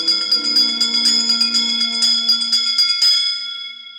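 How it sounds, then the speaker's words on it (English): A bell rings with a rapid, bright, sustained ringing on The Haunted Mansion LP, loud and close, then fades out near the end with no voices over it. "give us a hint by ringing a bell"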